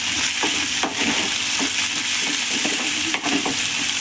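Green chilies and onions fry in hot oil with curry leaves and mint, a loud, dense sizzle broken by repeated scraping strokes of a spoon stirring the pan.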